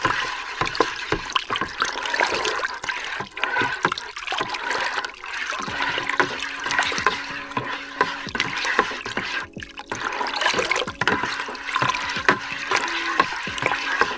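Hot wine must is being stirred with a slotted spoon during home winemaking, making sloshing liquid swirls and trickles with scattered knocks of the spoon. The sound is close and steady, and no one talks.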